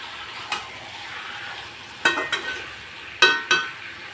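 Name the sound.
chicken being stirred in a kadhai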